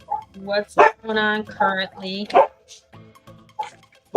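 Dogs bark in a few sharp, loud bursts mixed with yips, close by, over and between a woman's speech.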